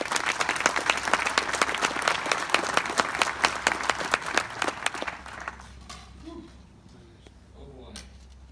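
A conference audience applauds to welcome keynote speaker Dr. Kent, chief architect of AlertTahoe/ALERTWildfire, at a 2018 science keynote. Dense, close clapping runs for about five seconds, then thins out and fades to a few scattered claps.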